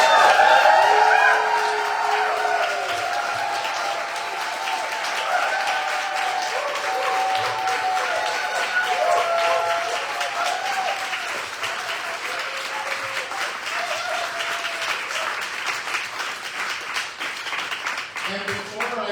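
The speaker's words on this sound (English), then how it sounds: "massive round of applause." Audience applause for an election night speech in Lanark-Frontenac, a steady broad wash of many hands clapping that carries on throughout, with faint voices and cheers mixed in.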